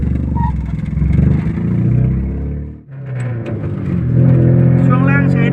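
An old Mitsubishi Champ pickup truck with a modified exhaust rumbles and revs loudly with a deep, throaty note, steady and close, while someone talks over it.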